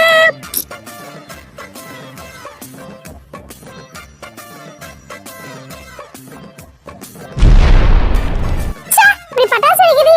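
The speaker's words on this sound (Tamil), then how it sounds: "நீ பட்டாசு வெடிக்கிறது இன்ட்ரஸ்டாவே இல்ல" A sudden loud firecracker burst erupts after several seconds of animated talk, a dense crackling blast lasting about a second with further pops, and voices resume right after.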